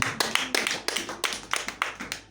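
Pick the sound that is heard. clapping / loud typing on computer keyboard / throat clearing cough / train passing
clapping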